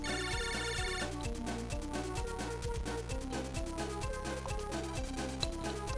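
A video game phone rings with a repeating electronic ringtone from Mega Man Battle Network 4, the chirpy tone pattern steady and moderately quiet for about six seconds, with no talking.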